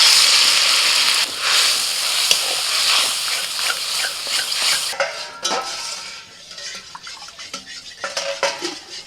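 Boiled urad dal with green chilli and salt tips into a hot pan of tempering, giving a close wet stirring and scraping of utensil against the pan with faint sizzle, fairly loud at first and then softer and more broken.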